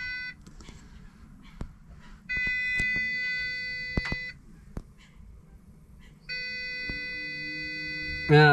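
A low battery alarm aboard a narrowboat sounds at 10% charge, giving long, steady electronic beeps in separated bursts over faint background clicks and knocks, fairly quiet and close by.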